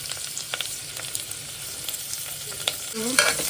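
Onions sautéing in a pan with added spices, a steady soft sizzle broken by scattered scraping stirs and a brief louder rattle near the end, close and alone without talk.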